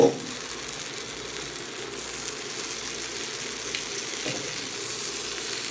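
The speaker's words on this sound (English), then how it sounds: "you can hear the barbecue kicking up a little bit" Pork ribs sizzling steadily on a barbecue grill, a continuous crackling hiss with small pops, close by and moderately loud.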